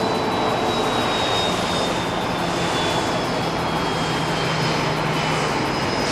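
SAS flight 984, an airliner bound for Copenhagen, roars steadily on departure from Haneda, a loud continuous engine rumble with a thin high whine holding throughout.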